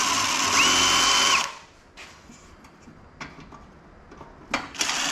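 A power drill runs steadily for over a second while backing screws out of a ceiling fan being stripped for copper recycling, then stops, leaving quiet handling clicks and light clatter of parts.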